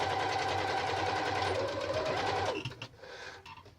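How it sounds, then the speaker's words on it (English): A sewing machine back-stitches at the start of a seam on a lined zip make-up bag. It runs as a fast, continuous motor whir with needle chatter, then stops abruptly, leaving a few soft handling clicks. "Always backwards and forwards to start. Always do your back stitch."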